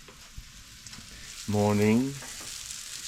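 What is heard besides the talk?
apples frying in a pan for breakfast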